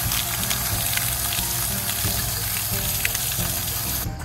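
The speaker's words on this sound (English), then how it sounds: "You just run this under a tap if you're outside" Tap water running over tomato seeds held in a strainer: a steady, close, hissing and splashing stream that continues without a break, with no talking.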